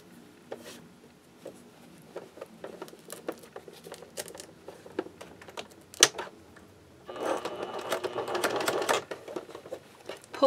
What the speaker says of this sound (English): I'm going to sew it to the bag down about a half an inch from the top,